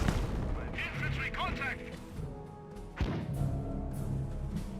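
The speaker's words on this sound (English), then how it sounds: "Mortar trying to hit somewhere." Mortar shells thump and burst in a Company of Heroes battle, a sharp impact near the middle standing out among distant booms and clutter of battlefield noise, with a voice talking over the game.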